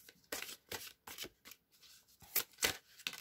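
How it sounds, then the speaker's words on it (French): Tarot cards handled and slid from a deck during a reading, a run of quick, close papery flicks and snaps in an uneven rhythm, with no talking. "J'ai envie de prendre une deuxième carte de l'Arc des Miroirs"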